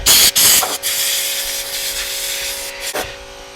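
Compressed air blasting around a tire bead after scale cleaning, a loud broadband hiss in short bursts at first, then a steady sustained rush with a faint whine, ending in a brief final puff.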